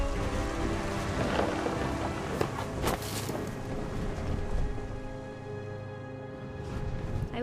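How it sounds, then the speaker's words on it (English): A thunderstorm rumbles and rain falls steadily in the video game What Remains of Edith Finch, a dense wash of sound with sharper bursts early on that thins out toward the end. "The thunder sounded much too close and full of angry power."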